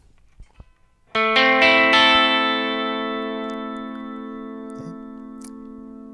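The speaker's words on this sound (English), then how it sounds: "And this is the clean channel with the bridge pickup." A Schecter C1 Silver Mountain electric guitar on a clean channel with the bridge pickup rings out a single strummed chord after a few faint string noises, sustaining and slowly fading over several seconds.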